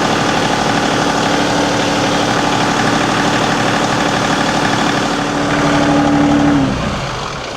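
A tractor's diesel engine idles steadily with a low chugging rumble, rising briefly before the engine shuts off and the sound dies away.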